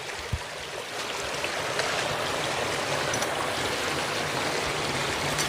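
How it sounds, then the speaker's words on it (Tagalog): A forest stream flows steadily, a continuous close wash of water with a faint thump near the start and no talk. "may tubig din pala to"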